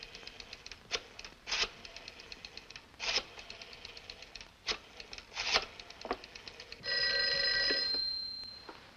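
An old telephone bell rings out in a 1940s film scene, with a long bright ring near the end after a series of clicks, taps and rattling handling noises, and no speech.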